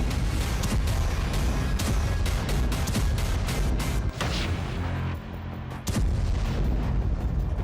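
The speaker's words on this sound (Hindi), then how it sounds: "रूस की एक मिसाइल खार्किव सिटी सेंटर के शॉपिंग कॉम्प्लेक्स पर गिरी" A Russian missile strike on a shopping complex in Kharkiv city centre, caught on a car dash cam: a dense run of loud blasts and crashing booms, with a brief quieter lull before another heavy impact.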